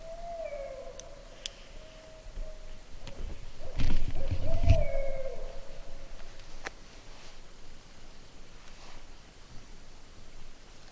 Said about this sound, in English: It's a barred owl.